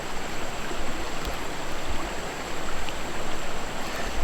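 A shallow whitewater river section runs steadily with a continuous broadband rush of water, close and even in loudness, with no voices over it.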